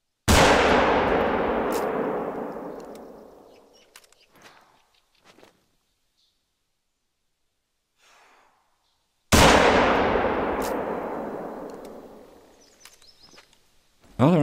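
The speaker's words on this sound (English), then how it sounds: "Oh, I'm shooting really bad." Two loud hunting rifle gunshots from theHunter: Call of the Wild, fired about nine seconds apart while hunting bison, each a sharp blast followed by a long rolling echo, with faint footsteps and small clicks between them.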